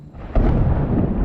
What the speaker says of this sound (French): Je crois qu'il y a vraiment de l'orage